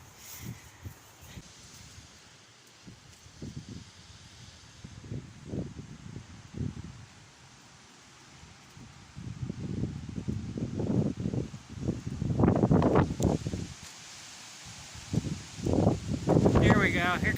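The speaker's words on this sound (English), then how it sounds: "Here comes the wind." Gusting wind before a desert storm buffets the microphone in irregular surges that grow stronger and rougher toward the end, rising and falling over several seconds as a loud, close rumble.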